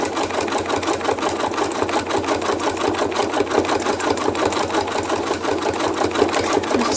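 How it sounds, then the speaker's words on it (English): A sewing machine runs steadily and close by, its needle hammering out fast, even stitches for the whole stretch without pause. "the sewing machine and needles."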